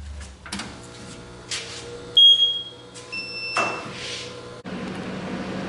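A laser cutter powering up for cutting foam rubber gives a few short electronic beeps over a low mechanical hum. A louder steady whir of a fan or blower then kicks in near the end.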